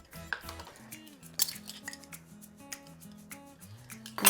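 Metal measuring spoon clinks against a bowl while baking soda and baking powder go into muffin batter, several light, sharp taps over a quiet tonal background.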